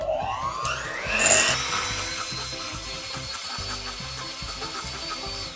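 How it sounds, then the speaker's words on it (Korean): Stand mixer beating room-temperature butter for gluten-free cookies, a steady mechanical whir with a rhythmic clicking churn that rises in pitch early on and then holds at an even, close, moderately loud level. "요거를 이제 기계를 이용해서 부드럽게 풀어보도록 할게요"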